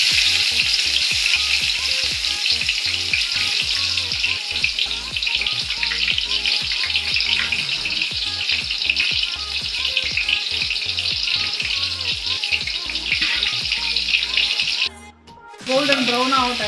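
Whole spices, cinnamon, cloves and cardamom, frying in oil and dalda for chicken biryani, a loud, steady close sizzle with crackling that runs nearly throughout and breaks off briefly near the end.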